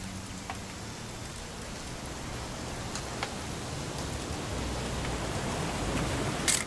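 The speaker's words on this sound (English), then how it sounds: "It's gonna rain the whole weekend, isn't it?" Steady rain falls in the video game What Remains of Edith Finch, a dense even hiss of drops with a few sharper drips, continuing unbroken with no voices.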